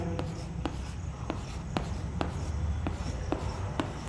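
Chalk taps and strokes on a blackboard during a matrix lesson in a classroom, with a quick series of crisp, fairly regular ticks over a steady room hum.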